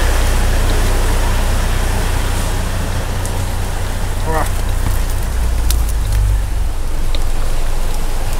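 Steady, loud rain roars throughout, a dense wash of noise with a low rumble underneath and occasional sharper splashes.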